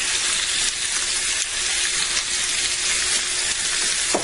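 Pre-cooked bratwurst browning on an outdoor grill give off a steady, loud, crackling sizzle that holds constant throughout, with no voices.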